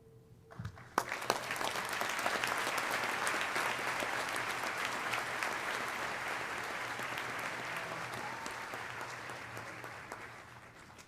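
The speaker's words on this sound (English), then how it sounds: "Please join me in a round of applause for our doctoral graduates." A graduation ceremony audience applauds doctoral graduates with sustained, dense clapping that swells quickly and slowly fades over about ten seconds, heard from a distance.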